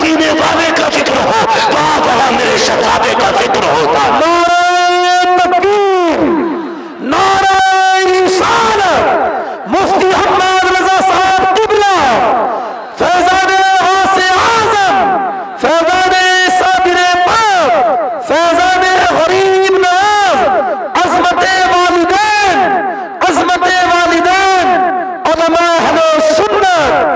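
A large gathering at an Islamic sermon answers the call with a loud takbir chant, repeated rhythmic waves of many voices shouting in unison, each phrase rising and breaking off in short pauses across nearly half a minute.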